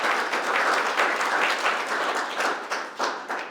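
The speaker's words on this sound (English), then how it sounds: "I just want us as adults take this moment to applaud our young people" An audience claps for young essay competition winners, with dense, steady applause from many hands, fairly loud and close, continuing throughout without speech.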